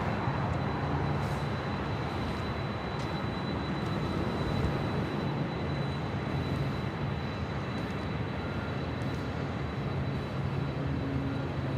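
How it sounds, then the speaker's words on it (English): Jet engine roar from a United Airlines Boeing 737-900ER on its takeoff at LAX, bound for Denver, a steady, loud, dense rumble that holds unbroken for about twelve seconds with no voices. "Next takeoff here on the south side, United Airlines Flight 616 heading to Denver, Colorado, a 737-900ER."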